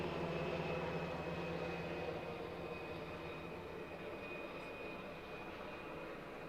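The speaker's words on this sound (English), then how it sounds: "This guy's hovering. It's a big chopper." A big helicopter hovers overhead, giving a distant, steady engine and rotor drone that holds through the stretch and fades slightly toward the end, heard alone without talk.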